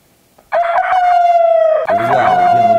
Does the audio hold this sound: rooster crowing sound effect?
yes